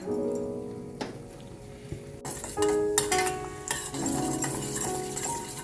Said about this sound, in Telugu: 2 టేబుల్ స్పూన్లు నెయ్యి వేడి చేసుకుని జీడిపప్పు కిస్మిస్ వేసి వేగించేసుకుందాం